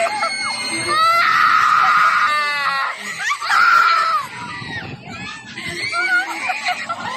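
Screams ring out on a Viking swing ride, with loud, high, wavering shrieks in several long bursts and other voices crying out close by.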